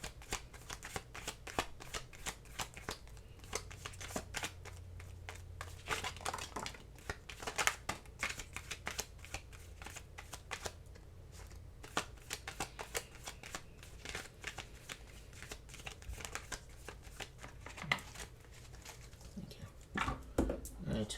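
Tarot cards being shuffled by hand, a long run of quick riffling and flapping bursts close up, soft and steady with brief pauses between shuffles.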